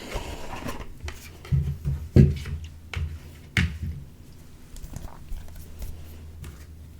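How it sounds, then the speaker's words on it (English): Soft rustling and riffling of tarot cards being shuffled, with several brief slaps and taps as the deck is handled, fairly close. "Now let's shuffle the cards."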